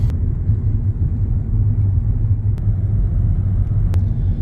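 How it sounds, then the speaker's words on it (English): A car drives at night along roads in Britain's North West near Keighley and Colne, giving a steady, close, low engine and road rumble throughout with no talk. "So just enjoy the view as the pilot Shehzad is at the wheel."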